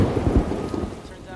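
Heavy rain pours in a film scene as thunder rumbles low and close, a dense roar of rain with a few deep booms early on, fading slightly toward the end.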